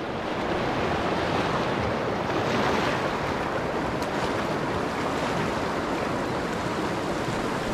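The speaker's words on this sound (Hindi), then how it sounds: "इतनी खतरनाक नदी आई है" Loud, steady roar of a rain-swollen river in Ramgarh, Uttarakhand, broadband water noise filling the whole clip without pause, close by and unbroken.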